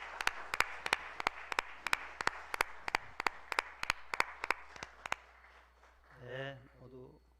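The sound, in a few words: congregation clapping in church service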